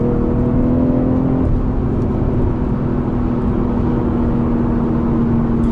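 A BMW M340i cruising on a highway at about 120 km/h, its engine droning steadily with a strong low rumble and a sustained tonal hum, then rising slightly as it accelerates in Sport Plus mode.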